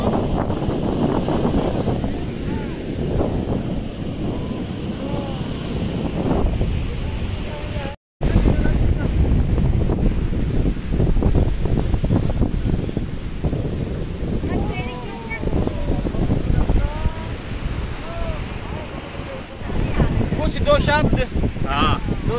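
Waves surge and roll in at Dhanushkodi beach on the Indian coast, with gusting sea wind buffeting the microphone in a steady, loud roar; a person talks over it throughout, with a brief dropout midway.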